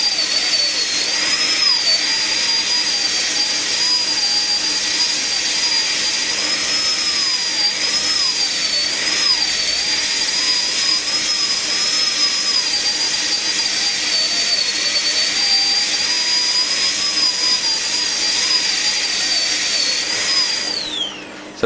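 A high-speed dental handpiece cuts an anterior tooth preparation for a porcelain-fused-to-metal crown, giving a loud, steady, piercing whine that holds unbroken for about twenty seconds before winding down at the end.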